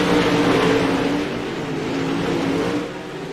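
Pro late model race cars roaring around an oval track, a loud continuous engine drone that holds steady for several seconds before easing off slightly near the end.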